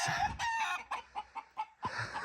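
Several chickens cluck in short, rhythmic bursts close by in winter in northern Wisconsin, with a rooster's crow at the start and end.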